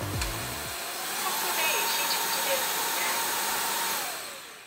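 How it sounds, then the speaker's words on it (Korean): A smart wet-mop vacuum cleaner runs with a steady, close, whooshing motor hiss throughout, with a brief low thud at the start and a slight swell and fade in loudness toward the end. "청소기가 동작하고 있는 도중에 손잡이를 앞으로 꺾어서 세우게 되면"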